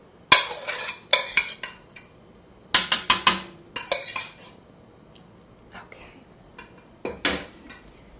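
Vegetables scraped from a board into chicken and vegetable soup stock: a series of sharp clattering scrapes and knocks of utensil on board and pot in irregular bursts, close and fairly loud, with quieter gaps between.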